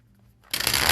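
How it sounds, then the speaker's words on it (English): A tarot card deck is shuffled, with a half-second of near silence giving way to a loud, dense papery riffle close by. "I'm going to shuffle 5 times and cut the deck halfway down the middle"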